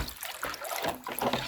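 Water mixed with electrolyte is poured in a barn during a 1978 Toyota FJ40 restoration, a soft, close trickle and splash of liquid that swells and eases in short gurgles.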